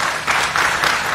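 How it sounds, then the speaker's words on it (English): Studio audience applause breaks out at a live radio and TV talk show in response to a call for term limits, a dense, steady clatter of clapping that holds loud for just over a second. "You're getting applause for term limits"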